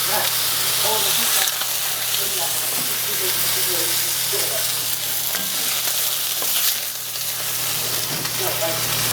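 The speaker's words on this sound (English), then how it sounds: "So we'll get these all fried up till they're nice and golden." Steady, loud sizzling of chicken frying in a cast iron pan, continuous crackle and hiss throughout, with faint clinks of stirring.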